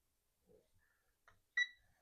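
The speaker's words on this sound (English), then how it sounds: "I'm going to set our timer for 12 minutes." A kitchen timer being set gives a few faint, short electronic beeps and chirps, the clearest one near the end, in an otherwise quiet room.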